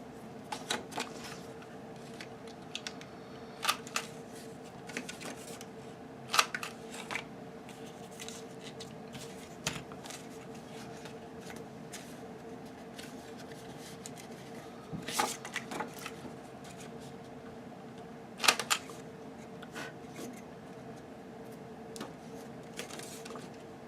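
Scissors snip the two ends off white cardstock pieces with tabs for a fabric album, the cuts coming as faint, scattered clicks and crisp snips over a quiet room, with a few louder cuts standing out.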